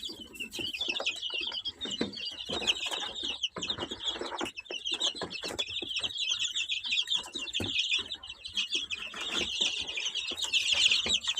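Fifteen-day-old chicks from a home hen's eggs, including a young rooster, peep and chirp continuously in a dense, high chorus, with occasional clucks and wing flutters close by.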